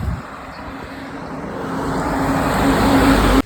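Steady rumble of road traffic stuck in a heavy jam on a road toward Vandri lake, a continuous broadband engine drone that slowly grows louder before cutting off abruptly near the end, with no talk.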